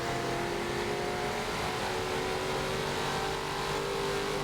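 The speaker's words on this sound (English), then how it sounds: "I really like the CUDA sound too." A Plymouth Cuda vintage Trans Am race car in Forza Motorsport 7 at Brands Hatch roars with a steady, loud engine drone throughout, holding a continuous high-revving tone with no talk over it.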